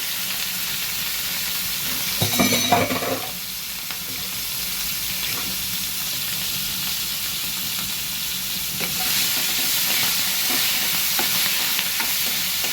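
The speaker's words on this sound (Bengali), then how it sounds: "এবারে আমি কড়াতে মাছটাকে ছেড়ে দিলাম, হালকা নাড়াচাড়া করে" Fish frying in hot oil in a wok, a loud steady sizzle throughout with a brief burst of clattering stirring early on and gentle scraping later, no voices.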